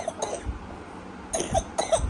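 A young girl gives several short, close coughs in quick bursts separated by brief quiet pauses, in a quiet room.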